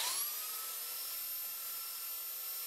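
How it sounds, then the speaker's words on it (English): A belt sander runs steadily along the top edge of a minimalist mirror frame, giving a continuous high-pitched whine with a bright hiss, fairly close and loud, with no talking. "A belt sander can be a great way to ruin a project really quickly."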